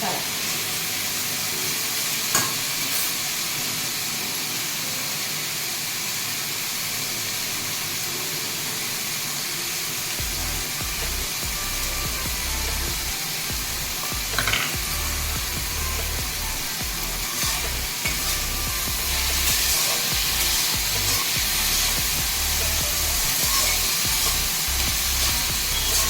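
Ivy gourd pieces fry with masala in a hot pan, giving a steady broad sizzle with soft stirring scrapes, louder after the first ten seconds, with no talk over it.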